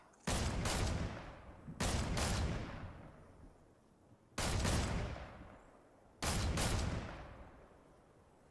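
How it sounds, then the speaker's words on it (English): Video game missile launches aimed at vehicles: four loud, sharp blasts, each followed by a long fading roar, arriving in pairs spaced a few seconds apart with quiet gaps between. "I shot a missile towards them."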